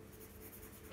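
Brown coloured pencil shading on paper, a soft, steady scratchy rasp heard close up and very quiet, with no talking.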